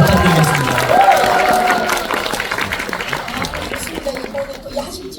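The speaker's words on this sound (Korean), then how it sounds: "박수 부탁드리겠습니다." A crowd at a Netflix screening and guest-visit event applauds. The loud clapping and murmuring are strongest at the start and slowly fade, with voices talking over them.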